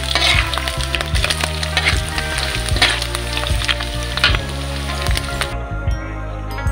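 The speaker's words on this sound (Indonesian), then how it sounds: "untuk ikannya nih nggak usah terlalu lama kita goreng" Fish for Acehnese keumamah sizzles in hot oil in a pan, a dense, continuous crackling and spitting that runs loud and steady before cutting off near the end.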